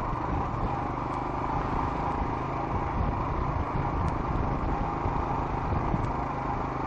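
Motorcycle ridden at about 30–40 km/h on a mountain road near 2000 metres, a steady continuous engine drone with wind noise, close and even throughout with no talking.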